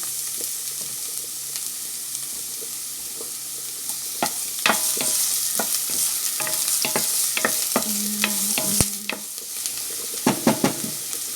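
Onions sauté in olive oil for homemade chicken curry, a continuous close sizzle broken by spatula scrapes and knocks against the pan, with no talk.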